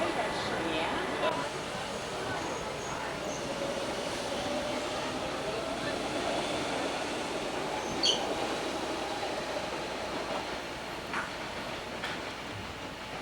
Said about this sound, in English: That's the metro we just rode on.